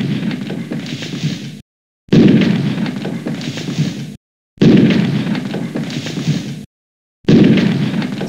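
Bombs go off in a Bomberman game as four loud, rumbling blasts, each lasting well over a second, separated by short dead silences.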